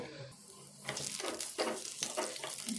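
Three slit green chillies fry in a little oil in a pan, giving a soft, steady sizzle with occasional stirring scrapes, close but fairly quiet.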